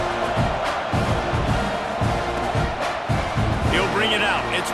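Football stadium crowd roars steadily at kickoff after a deflating score, a dense continuous wash of cheering and chatter with rhythmic pulses and some whistling near the end.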